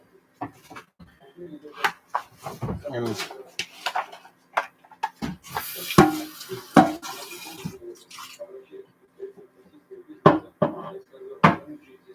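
Shawarma ingredients with a little oregano are being mixed in a bowl, making scattered knocks, clinks and scraping strokes in uneven bursts with short pauses between them, close and fairly quiet, with a voice heard now and then.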